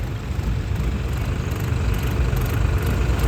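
A tractor engine runs steadily at a flood embankment in Punjab, a continuous low rumbling idle with vibration and no pauses, heard close and alone throughout.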